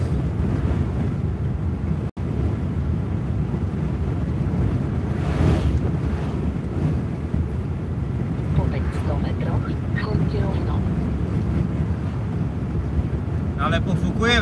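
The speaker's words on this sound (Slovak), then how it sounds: "Ale pofukuje vetrík." Strong wind buffets the microphone outdoors in a steady, loud rumbling roar throughout, with some faint voices under it.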